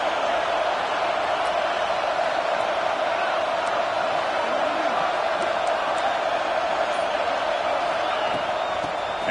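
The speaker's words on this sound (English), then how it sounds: "It's early, but this crowd is fired up. Listen to this noise here." A dense, roaring stadium crowd fills a football video game with steady, loud noise throughout, and no distinct cheers stand out.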